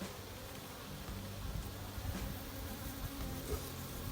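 Honey bees buzzing around an opened Kenyan top-bar hive, a dense steady hum close by and fairly faint, with no voices.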